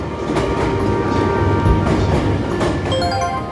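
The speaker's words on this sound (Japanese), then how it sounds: "ちょうど5300系が来てくれたので、これで出発します。" A Hankyu 5300 series train on the Kyoto Line rolls into a station, its wheels clattering over rail joints in a steady rumble, with a high squeal and motor whine emerging near the end.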